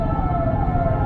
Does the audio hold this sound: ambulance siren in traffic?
yes